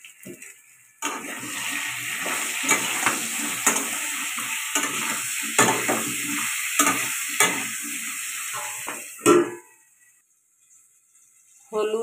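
Potatoes for aloo dum frying with salt, turmeric and chilli, stirred in a pan: a steady close sizzle with repeated scraping stir strokes runs for about eight seconds, then stops abruptly, leaving near silence.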